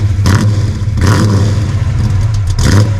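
Dodge Dart Swinger 340 V8 engine idling with a deep low rumble and blipped three times into short, loud revs.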